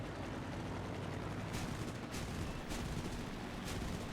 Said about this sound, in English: these cannons work well